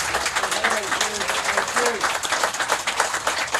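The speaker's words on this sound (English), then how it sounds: "And a big round of applause on the new album." Applause from the audience closing a Q&A, a busy patter of clapping with voices talking and calling out over it.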